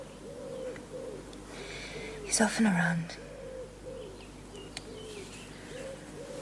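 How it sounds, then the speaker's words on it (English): Soft, repeated wood pigeon cooing in the background, with a brief spoken line over it. "That wood pigeon."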